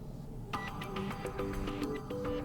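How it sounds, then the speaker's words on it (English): A ringtone alarm sound plays on an OPPO A18 phone, a bright repeating melodic chime starting after a brief pause and continuing steadily, clear and close with no talking. "now select new alarm sound from the list"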